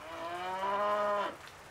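A dairy cow moos once, a long, loud, close call that swells and then drops away, with no voices over it.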